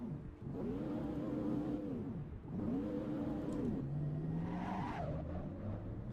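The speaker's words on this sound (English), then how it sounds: "Oh, it's an electric car." An electric car in the racing game Assetto Corsa Evo pulls away and drives, its motor whine rising and falling in repeated sweeps, then settling into a steady higher tone, with no talking.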